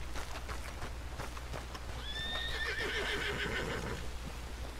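A horse in the video game Red Dead Redemption 2 lets out a loud, drawn-out whinny lasting about two seconds, over steady clip-clop hoofbeats and ambient background noise.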